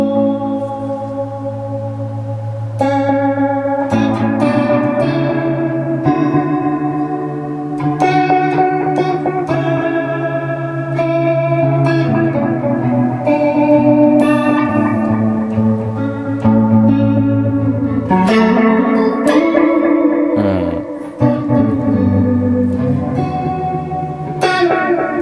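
An electric guitar played through the Eventide H90's Water Wail effects preset rings out in sustained, wavering chords and melodic lines, heavily chorused and reverberant, loud and continuous with no talking.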